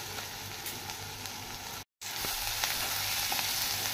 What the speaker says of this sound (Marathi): ही हळद तेलातच घालत आहे कारण तेलात हळद टाकल्यानंतर पोह्यांना छान रंग येतो